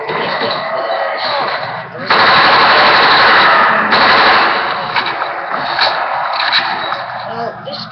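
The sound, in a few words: AK-74u gunfire in Black Ops video game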